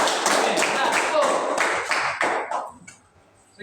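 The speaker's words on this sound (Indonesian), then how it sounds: "tepuk tangan dulu" Students in a classroom clap their hands together, a loud burst of brisk, fairly rhythmic claps that thins out and stops near the end, followed by a single late clap.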